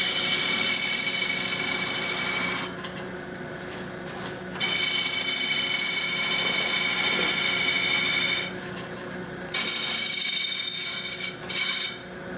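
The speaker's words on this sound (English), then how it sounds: "I'm going to do a little bit of work on the very top of that with my skew chisel" A skew chisel cuts wood on a lathe during goblet turning, giving a bright, hissing shaving sound in long steady bursts that stop and restart several times, each pause dropping to a low motor hum; no talking.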